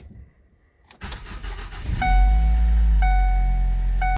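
A Ford Focus with a DPS6 dual-clutch transmission starts up and begins to drive: a door-like thump, then a loud, steady engine hum from about two seconds on, with repeated high chime tones over it.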